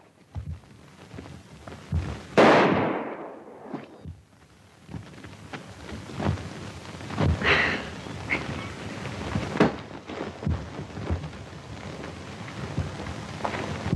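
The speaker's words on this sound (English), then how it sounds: "That's pretty good shooting" Gunshots ring out in an old western film, a loud sharp blast followed by several scattered reports and cracks over a crackly, noisy soundtrack.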